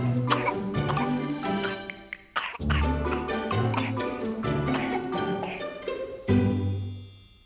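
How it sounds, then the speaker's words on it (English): A person coughs several times in sharp, separate bursts with short gaps between them. The coughs are close and fairly loud, and a couple of them end with a rougher, throatier rasp. "What is a cough?"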